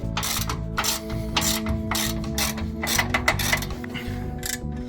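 A ratchet tightens the control arm bolts on a Jeep, bursts of rapid clicking strokes repeating close by, with no talk.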